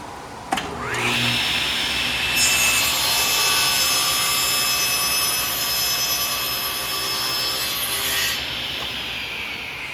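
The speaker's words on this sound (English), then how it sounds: "get it against the fence, and make one more cut" A table saw rips through a wooden board against the fence, the spinning blade whining loudly and steadily for several seconds before the cut finishes and the pitch shifts near the end, close and with no talk.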